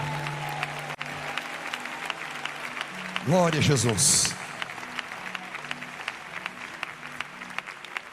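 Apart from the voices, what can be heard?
church congregation applauding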